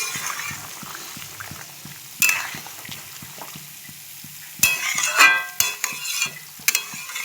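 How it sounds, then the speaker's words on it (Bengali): Bengali fish curry (macher jhol) simmers in a pot with added water, soft rhythmic bubbling popping in a steady pulse, broken by a few louder clatters and stirring scrapes. "জল দিয়ে দিয়েছি মাছের ঝোলে ঝোল ফুটছে এখন"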